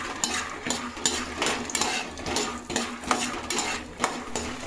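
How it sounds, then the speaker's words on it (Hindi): Peanuts roasting in hot ghee in a kadhai, a spoon scraping and clattering against the metal in a steady repeated rhythm over a faint sizzle, close and fairly loud with no talking. "अब डाल देते इसमें मूंगफली पूरी सारी।"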